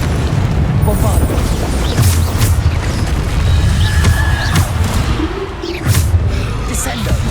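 Booming blasts from the Bombarda explosion spell in the Hogwarts Legacy video game erupt repeatedly over loud, continuous combat noise, with a voice calling out between the bursts.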